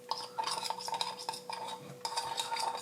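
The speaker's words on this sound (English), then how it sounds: "So let's just mix it. Make a nice mix here." Xanthan gum is mixed into an after-sun cooling gel with quick, rhythmic scraping and stirring strokes of a utensil against a container, close and fairly quiet.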